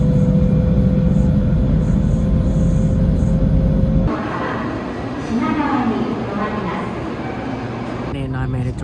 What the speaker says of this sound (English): We're waiting for our Shinkansen to Nagoya.